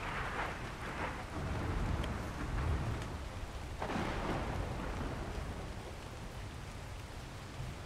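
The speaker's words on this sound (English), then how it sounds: "And whenever the rain goes away," Steady rain pours in the video game ARK: The Center, with deep rumbling thunder swelling in low rolls and a sharper crack near the middle, loud and continuous with no voices.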